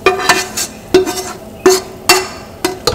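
A spoon stirs chorizo and longaniza in oil in a large pot for frijoles charros, giving steady, close scraping and clanking strokes against the pot about every half second, with a soft sizzle underneath.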